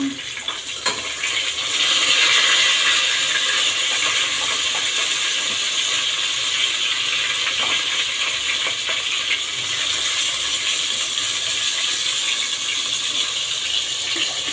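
Fish fries in hot oil in a pan, giving a continuous close sizzle and hiss that holds steady throughout with faint clicks, and no one speaking.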